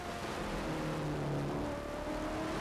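A race car running at South Side Speedway, a 1999 season-opener full-contact oval race, its engine droning with a steady pitch that shifts slightly as it works through the corner, moderately distant and continuous.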